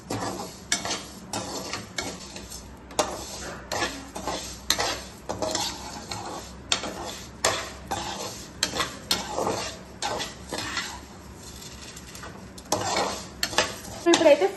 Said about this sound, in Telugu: ఇప్పుడు బాగా ఫ్రై చేసుకోవాలి. దీన్ని కొంచెం బ్రౌనిష్ కలర్ వచ్చేదాకా.